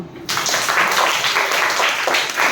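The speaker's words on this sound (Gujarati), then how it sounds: "ચાલો તાળી પાડો." Children clap their hands together in a classroom during a number magic activity for third-grade maths, a dense burst of loud, close applause that starts abruptly and runs steadily without speech.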